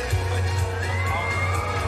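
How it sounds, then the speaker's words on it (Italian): Audience at an evening children's fashion show cheering and clapping as a crowd, a steady dense wash of applause with whoops throughout, fairly loud and continuous. "Un grande applauso a Fashion Baby"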